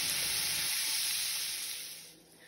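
Sausage browning in a pan sizzles with a steady, bright hiss up close, fading somewhat toward the end, with no talk.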